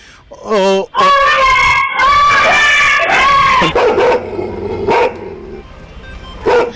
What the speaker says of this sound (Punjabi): ਇਹ ਉਹ ਖੁੰਖਾਰ ਕੁੱਤਾ ਹੈ